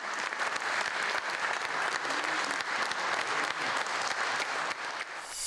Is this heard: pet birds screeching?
no